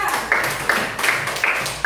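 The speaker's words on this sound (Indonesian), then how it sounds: "Tepuk tangan untuk kelompok 2." Classroom group claps for a brief moment, a dense patter of many hands with sharp individual claps standing out, fairly close and loud.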